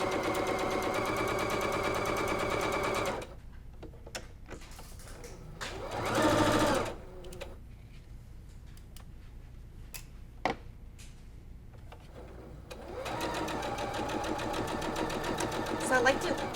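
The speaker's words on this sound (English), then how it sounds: "we're gonna go to our sewing machine. We're gonna change our foot to a 1/4 inch foot, and we're gonna stitch all the way down" A sewing machine fitted with a 1/4 inch foot stitches quilt block fabric in a steady, loud run at the start and again at the end, with quieter handling clicks and a short burst between.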